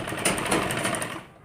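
A sewing machine runs a steady, rapid stitch along the edge of a lehenga blouse, a close, continuous mechanical whirr with a fast rhythmic pulse that winds down at the end.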